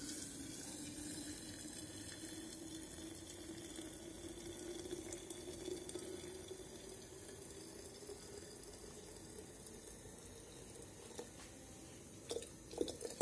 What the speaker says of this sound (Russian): Беру и наливаю кипяток в центр банки.